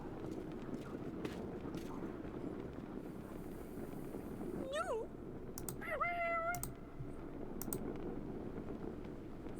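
A cat meows in the video game Yes, Your Grace when petted, two short rising meows near the middle over a steady background music bed, with a few soft clicks around them.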